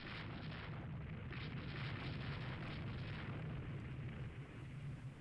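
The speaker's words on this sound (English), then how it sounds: "It opens fire at Cambrian." Naval gunfire from ships in the Rule the Waves 2 game, heard as a continuous low rumbling roar of distant cannon fire with a steady boomy texture and no voices.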